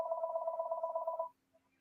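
A phone rings with one continuous electronic trill lasting just over a second, fairly close and clear, then cuts off into near silence.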